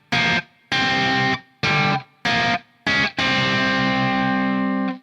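A distorted electric guitar plays a riff, with five short, loud, choppy chords separated by silences and then a final chord left ringing and fading, with no talk.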